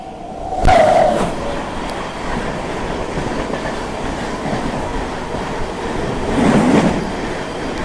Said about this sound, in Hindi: और अब बारी है भुवनेश्वर तेजस राजधानी की, वो आने वाली है।